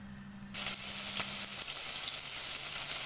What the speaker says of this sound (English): once the oil is hot enough, you add in your onions